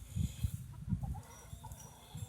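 Free-range hens cluck softly in a homestead yard, with a run of low, close, irregular clucks that go on through the whole moment.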